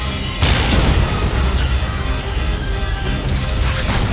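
A loud, sustained ion cannon blast roars through the whole stretch in a video game, a dense rumbling energy discharge like a heavy weapon firing.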